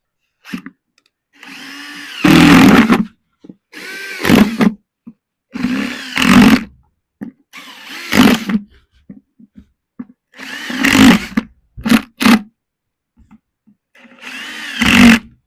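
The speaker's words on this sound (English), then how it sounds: "So I'm just gonna drill the holes quickly." A power drill boring holes into a beat-up plastic 5-gallon pail, loud close bursts of whining motor, about eight separate drilling runs of one to two seconds each with short pauses between.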